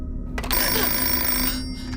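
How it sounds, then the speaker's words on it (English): A telephone bell rings in a farmhouse horror film scene, one short loud burst of trilling ring lasting about a second before cutting off, heard alone. "The phone rings, but no one answers."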